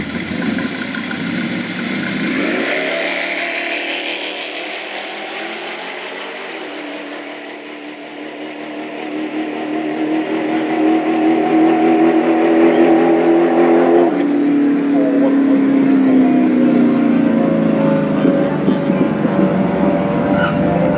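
A Classic Mini revs hard on an Outlaw Street drag racing run. The loud, close engine note climbs steadily in pitch through the gears and ends in a sustained high wail.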